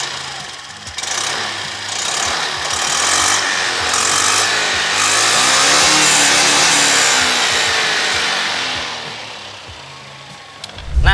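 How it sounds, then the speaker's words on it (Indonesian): Honda scooter engine started and left running, a continuous idling drone that swells and holds steady before easing off, close and fairly loud with no one talking over it. "Coba kita dengerin ya suara mesinnya ya. Kita nyalain."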